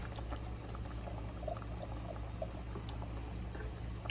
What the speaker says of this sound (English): I'm adding in my Goya pink beans